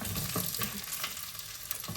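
Leftover lechon sautéing in a pan, a loud continuous sizzle and crackle of frying with occasional stirring scrapes, close and with no voices.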